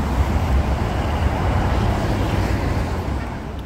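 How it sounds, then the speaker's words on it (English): Loud street traffic in South Korea, a constant low rumble of many passing buses and cars mixed with gusty wind buffeting, dense and continuous before easing slightly at the end. "it's just buzz because there's so many buses and it's pretty windy"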